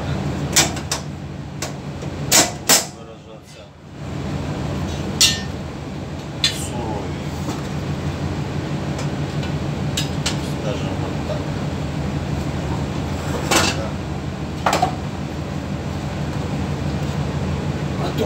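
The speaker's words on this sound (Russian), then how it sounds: "кастрюлька так летает, так летает шум." Metal clanks and rattles at irregular intervals over a steady engine hum, a pot knocking around on a ship's galley stove in rolling seas, with talking in between.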